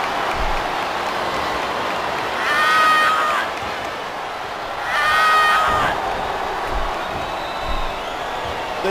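Game arena crowd noise from a WWE SmackDown vs Raw 2010 wrestling match, a steady roar with two louder swells of jeering that rise and fall, with a commentator's voice faintly mixed in.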